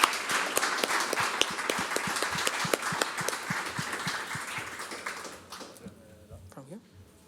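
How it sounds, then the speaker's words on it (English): A crowd at an online event applauds the winners with a burst of dense, rapid clapping that thins and fades over several seconds, with a voice speaking briefly near the end. "let's give another final round of applause to the winners"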